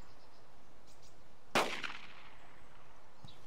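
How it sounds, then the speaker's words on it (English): A single sharp M1911 pistol shot in a video game cracks out once, fairly close, with a short ringing tail against a quiet, steady background hiss. "I'm shooting 1911 at him."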